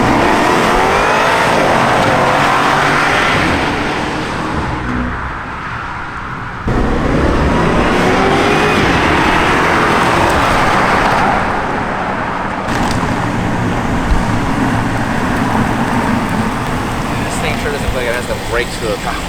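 Twin turbo V8 BMW accelerating hard and revving, its engine roar rising and falling in long loud surges with brief shifts between pulls, heard close up from inside or near the car.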